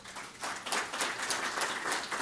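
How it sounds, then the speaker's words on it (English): Audience at an inaugural startup pitch competition and demo day breaking into applause and cheering, dense continuous clapping that swells after a brief lull and stays loud throughout. "I didn't expect you guys to cheer, so this is awesome."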